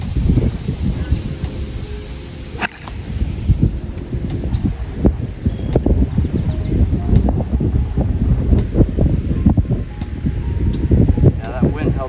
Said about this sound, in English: Wind's coming at us. Wind again.